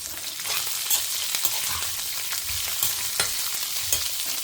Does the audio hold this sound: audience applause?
no